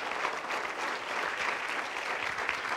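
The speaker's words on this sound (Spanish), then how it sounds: "Fuerte para Jesús ese aplauso" Congregation applause during an evangelical church service, a dense sustained wash of many hands clapping at moderate distance, steady throughout with no speech over it.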